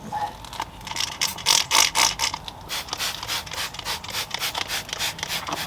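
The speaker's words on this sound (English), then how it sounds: "You spray it on, you rub it in, and then you wipe it off with a damp cloth." Interior cleaner is rubbed into a car's interior surfaces by hand, producing rhythmic, close scrubbing strokes with a scratchy, rasping texture, repeated steadily for several seconds.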